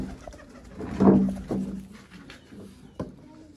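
Breeder pigeons coo close by in a few low, throaty calls, with soft rustling and a sharp tap between them.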